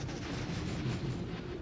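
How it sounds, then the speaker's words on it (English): Continuous rumbling explosions and artillery-like blasts from a large Dawn of War battle between Tyranids and Salamanders, dense and loud throughout with no pauses. "Explosions everywhere."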